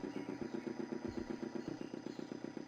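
A boat motor in the Broken Sword 2: The Smoking Mirror video game sputters into life, a rapid rhythmic low putter with regular pulses, quiet and without talk.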